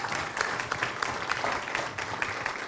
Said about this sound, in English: let's give them a round of applause who helped prepare the food